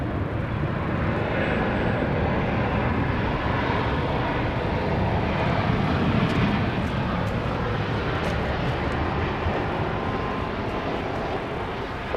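A Southwest Boeing 737-800 airliner landing at Dallas Love Field, heard as a steady, loud roar of jet engines that holds through the whole stretch with no talk.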